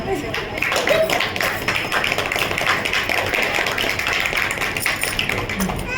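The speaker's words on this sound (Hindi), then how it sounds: "एक बार बजाओ, ताली बजाओ ताली।" Wedding guests clapping together at a jaymala ceremony, a steady dense patter of many hands close by, with voices talking over it.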